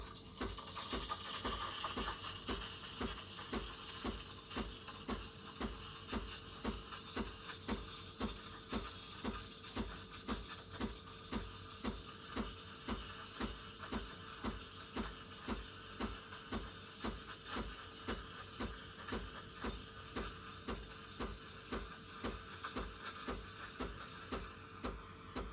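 A Breville Infuser BES840 steam wand froths milk with a continuous hiss laid over a fast, steady pulsing from the machine, even and close throughout.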